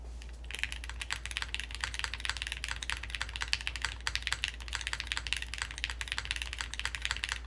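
Fast continuous typing on a plateless Quantum60 mechanical keyboard with milky yellow switches, dense close clacking keystrokes in an even stream over a low background hum.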